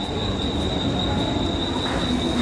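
A train rolls through a railway station with a continuous loud rumble and a sustained high wheel squeal, steady throughout with no voices.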